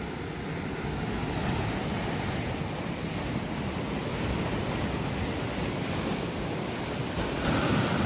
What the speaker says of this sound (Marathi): लाटा आता मोठे मोठे येऊक लागले. जशी जशी भरती वाढता ना तसे लाटा मोठे येतात.